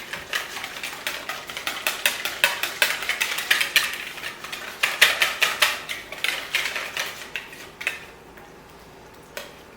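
A small whisk beats a batter mixture for fried chicken in a bowl, producing a fast, steady series of close metallic clicks and taps that speed up and slow down and then stop near the end.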